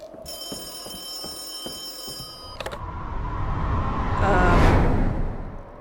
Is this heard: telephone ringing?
yes